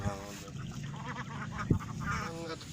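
Ducks quacking beside a rice field in a rural Indonesian village, a few nasal calls over steady outdoor background noise with a louder burst midway.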